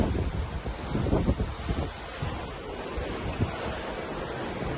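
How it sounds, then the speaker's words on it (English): Ocean waves and surf wash steadily around a cruise ship at sea, with wind buffeting the microphone in a continuous broadband rush and no talking. "Nothing but ocean."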